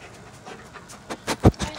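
A puppy pants in short, quick breaths close by, a few soft huffs building into louder rapid puffs toward the end, with no talking.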